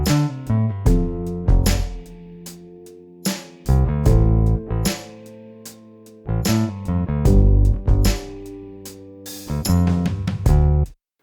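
Chill hip hop beat with punchy kick drums locked to a deep bass line, playing in a steady looping groove with short pauses between phrases.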